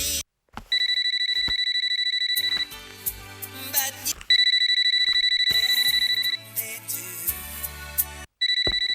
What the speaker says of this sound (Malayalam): ഫോൺ അടിച്ചാലും അറിയില്ല